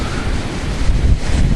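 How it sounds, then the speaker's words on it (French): Strong wind roars continuously across the microphone at a night campsite, a dense, buffeting rush with low rumbling gusts and no voices. "le vent a commencé à se lever d'un coup"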